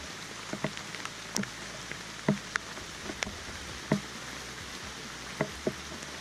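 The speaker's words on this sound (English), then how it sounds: "I'm going to glamp today in this pouring rain under a tarp" Rain falling on a tarp over a glamping spot on a rainy day, a steady soft patter with scattered sharper drops ticking at irregular moments, close and fairly quiet, with no voices.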